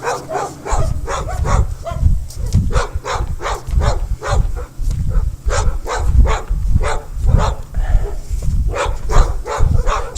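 Several dogs bark along a walking route, giving loud, rapid, overlapping barks that repeat steadily throughout and sound fairly close, with no speech.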